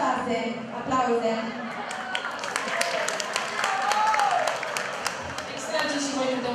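Audience applause fills a school freshman ball at Liceul Teoretic "Silviu Dragomir" in Ilia, a steady wash of clapping that continues without a break and mixes with crowd noise and voices.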